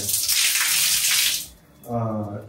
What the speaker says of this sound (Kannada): ಇದು ವಾಟರ್ ಫಾಲ್ ಎಫೆಕ್ಟ್